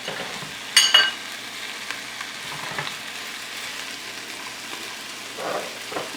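Onions tipped into a hot pan for a luncheon loaf and vegetable omelet, giving a sharp burst of sizzling near the start that settles into a quieter, steady fry.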